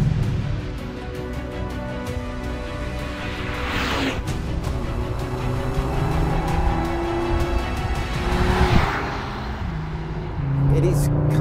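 Mercedes-AMG A45 S hot hatch accelerating hard, engine note building over steady road noise with two surging whooshes as it passes close by, then a lower drone at the end.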